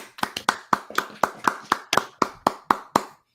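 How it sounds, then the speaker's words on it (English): Hands clap in a steady, evenly spaced rhythm, about thirteen sharp, close claps in a row, then silence. "But did everybody clap their hands?"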